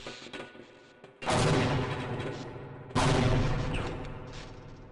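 Grenade explosions in Half-Life: Opposing Force, two loud close blasts a couple of seconds apart, each a sudden heavy burst followed by a rumbling decay.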